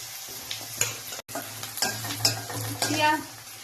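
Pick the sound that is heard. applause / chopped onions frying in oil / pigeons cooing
chopped onions frying in oil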